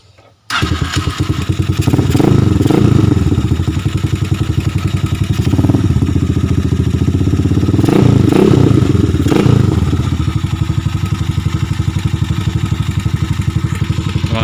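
Gamma 200 motorcycle fitted with an SC Project muffler starts up after a brief silence, then runs loud and close, with repeated throttle blips rising over a steady, throbbing idle.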